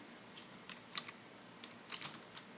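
Keys on a computer keyboard click in soft, irregular taps, a handful of quiet close keystrokes spaced unevenly with no voices over them.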